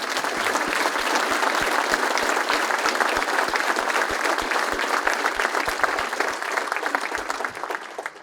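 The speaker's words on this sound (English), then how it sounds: "give a round of applause to our instructors from the Boston Fire Academy" Audience at a Boston Fire Department recruit graduation ceremony applauding the Boston Fire Academy instructors, a steady, dense wash of clapping that holds for the whole stretch before starting to fade near the end.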